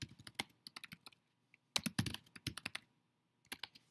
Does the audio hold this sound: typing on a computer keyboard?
yes